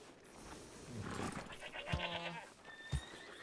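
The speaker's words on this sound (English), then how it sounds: "Yep, gotta have a billy goat." A billy goat at a livestock auction lets out a couple of wavering bleats, fairly close, over a quiet background with some soft crowd noise.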